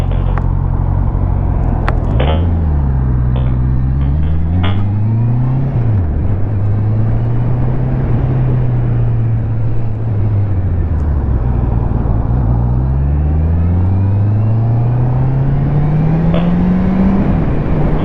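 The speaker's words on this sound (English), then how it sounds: "I'll be out now once all these cars pass." Cars pass on a road beside a waiting motorcyclist, engines rising and falling in pitch as each vehicle goes by, loud and steady with a continuous rumble and no talk.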